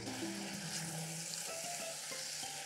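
Anchovy fish sauce sizzles and fries in oil in a hot pan, a close, loud, continuous crackle with faint stirring scrapes and no voices.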